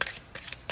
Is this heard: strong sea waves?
no